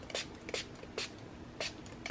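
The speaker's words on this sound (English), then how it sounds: "So the sheet I put on top, let's give it a spray." Brief hissing bursts from a spray bottle misting coffee onto the back of a paper sheet, five quick sprays in an irregular rhythm, close and quiet.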